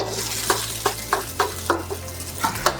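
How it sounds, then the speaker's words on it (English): Beef being stir-fried with fried rice in a hot pan, with a spatula scraping and tapping in a steady rhythm of about eight strokes over a continuous sizzle. "I'm going to stir that around a little bit, and I'm going to add back my beef."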